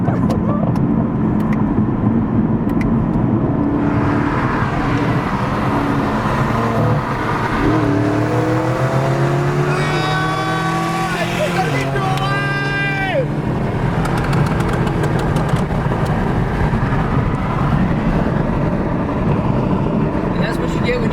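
A 2020 Camaro 2SS and a turbo car, an M4, accelerate hard side by side, engine revving loudly with rising and falling pitch through gear changes, up close over steady road noise, with people talking over it.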